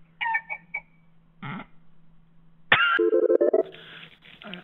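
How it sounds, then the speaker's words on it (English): A rooster crows over a phone line on a live radio game show call, its harmonic call rising abruptly and loudly midway after a few shorter calls and a pause, against a steady low hum. "Because I'm hearing a rooster."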